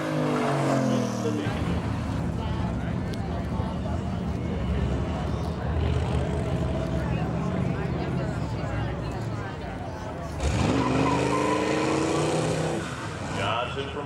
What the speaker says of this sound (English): Johnson from Swansea warming up the tires a little bit